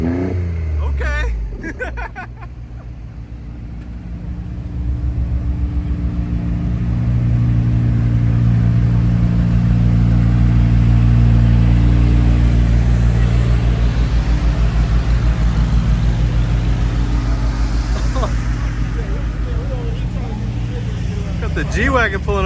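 Engine of a 900hp 2025 BMW M4 Competition xDrive revving loudly and close, a steady deep drone swelling to a sustained high-rpm hold, with crowd chatter around it.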